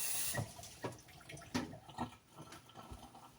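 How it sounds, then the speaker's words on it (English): A faucet left running into a sink, giving a steady, faint wash of water with small splashes and drips throughout, quiet and alone with no talking. "I could leave this faucet running as long as I wanted, and it's not going to fill up"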